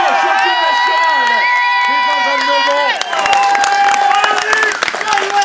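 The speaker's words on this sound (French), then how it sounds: "je vous demande de l'applaudir très très fort" Crowd at a national cyclo-cross championship applauding and cheering a champion, loud and continuous, with a voice over a loudspeaker talking over the clapping throughout.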